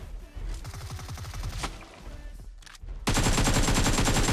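Gunfire in the ARK dinosaur survival game: rapid shots crackle in quick bursts, then a dense, loud wall of continuous fire takes over for the final second and a half.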